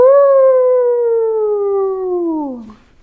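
A single long howl, a human voice imitating a wolf, holds a steady pitch for over two seconds, then slides down and fades.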